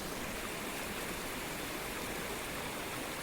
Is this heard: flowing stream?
yes